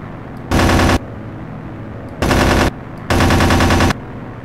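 Aircraft machine guns fire in the flight combat game Aces High 2, three loud, close bursts of rapid fire, the first and second short, the last longer, separated by quieter engine drone.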